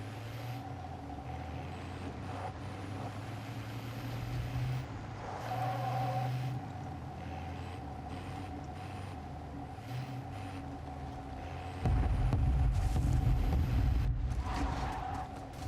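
A truck in a video game drives with a steady, continuous engine rumble and road noise, a brief air-brake hiss, and a louder, rougher stretch of engine roar near the end, with no talking.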